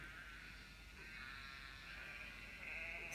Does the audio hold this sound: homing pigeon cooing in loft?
no